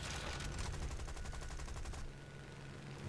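Aircraft machine guns fire in War Thunder as a rapid, steady rattle lasting about two seconds, then cut out and leave a fainter droning aircraft engine.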